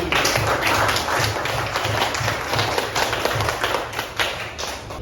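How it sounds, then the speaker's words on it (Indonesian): Students in a classroom applaud two classmates with steady, dense hand clapping from many people nearby, a continuous patter of claps lasting several seconds at moderate volume. "Kita kasih tepuk tangan untuk Raffi dan Tommy."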